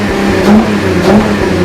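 A Honda CRF motorcycle engine revs in neutral with two quick throttle blips rising above a steady, loud idle, close up and with no talking.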